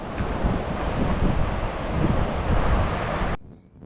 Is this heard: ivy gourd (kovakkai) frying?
no